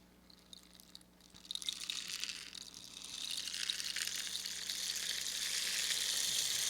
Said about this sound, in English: we have rain stick now